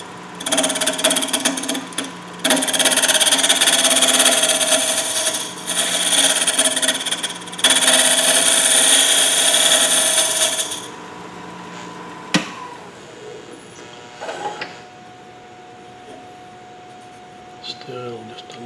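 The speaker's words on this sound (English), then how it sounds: "I'll do just a little bit of scraping here to smooth up this face" A wood lathe spins a wooden doughnut cutter while a tool scrapes its face, producing loud sustained rasping bursts broken by short pauses, then fading to quieter clicks and handling sounds.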